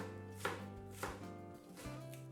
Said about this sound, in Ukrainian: дрібно нарізаємо зелену цибулю пару штук